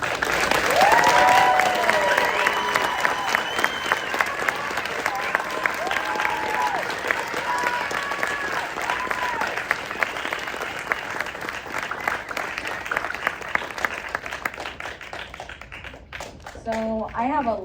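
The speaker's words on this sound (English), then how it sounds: "I hope you will all give another big round of applause for" Sustained audience applause fills a hall, dense steady clapping that gradually thins toward the end while a voice talks briefly over it.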